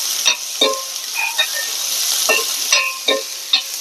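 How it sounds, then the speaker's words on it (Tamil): A large chopped onion frying in oil in a pan gives a steady close sizzle, broken by several sharp clinks and scrapes from stirring. "ஒரு பெரிய வெங்காயம் கட் பண்ணி இதில் போட்டுக்கிறேன்"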